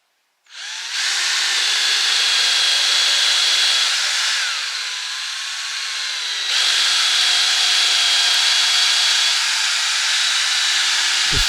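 A circular saw cuts through wood outdoors while sauna walls are being built, spinning up sharply and then holding a loud, sustained whine through the cut with a slight dip in the middle, no voices.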